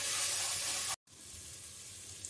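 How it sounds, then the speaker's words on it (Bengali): Ginger, garlic and green chili paste sizzles steadily in a pan, a broad hissing fry that cuts out for a brief moment midway and then resumes at the same level, with no voices. "এবার এটাকে ভালো করে একটু কষে নেব।"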